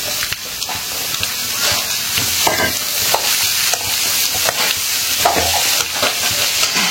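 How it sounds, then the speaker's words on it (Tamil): Cut raw mango pieces go into a hot pan with jaggery and get stirred, giving a steady close sizzle with repeated scraping strokes of the spoon throughout. "இப்போ வந்து கட் பண்ணி வச்சிருக்கிற மாங்காயை சேர்த்துடுறேன்."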